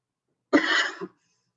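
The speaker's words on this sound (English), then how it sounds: "I'm going to put myself on mute while I cough a little more." A single short burst of coughing, close and fairly loud, lasting about half a second with a brief second hack at the end, otherwise silence.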